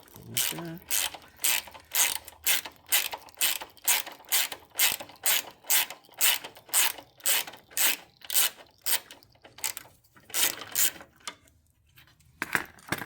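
A ratchet loosens a 10 mm bolt on a power steering line of a 2004-2008 Acura TSX, giving a run of sharp, evenly spaced clicking strokes up close that stop near the end.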